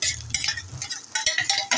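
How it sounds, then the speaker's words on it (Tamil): Metal spatula scraping and clinking in a pan as sautéed vegetables are stirred for a chicken sandwich filling, quick irregular bright scrapes and taps up close, with no talking. "நல்லா கிளறுங்க ஃப்ரெண்ட்ஸ்."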